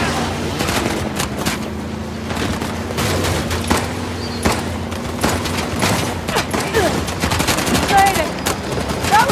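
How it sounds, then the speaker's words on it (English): Dense gunfire rattles through a firefight in Uncharted: The Lost Legacy, with rapid automatic bursts and sharp single shots crowding together, a low engine-like hum beneath, and shouted voices mixed in. "Open fire!"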